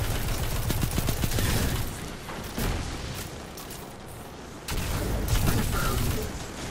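Loud, sustained rapid gunfire comes from a player's weapon in a Destiny 2 Gambit match, with dense continuous bursts that dip briefly and then return at full strength.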